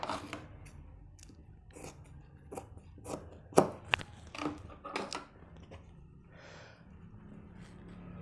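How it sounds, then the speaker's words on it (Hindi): Scissors cut a strip of fabric for a trouser back pocket, a series of sharp crisp snips at uneven intervals, close and clear against a quiet room, with soft rustling between cuts. "तो हम उसके लिए एक किनारी का कपड़ा काट लेते हैं।"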